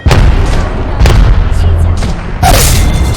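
A grenade explosion in a shooter video game, with loud, close booms and bursts that repeat over a constant low rumble, one sharper blast near the end.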